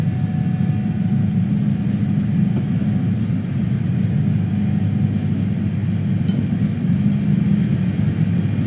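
Island Line train in Train Simulator running toward Ryde Pier Head terminus, a steady low rumble of motor and wheels on rail that holds evenly for the whole stretch, with no voices.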